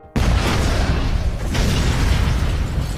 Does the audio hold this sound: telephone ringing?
no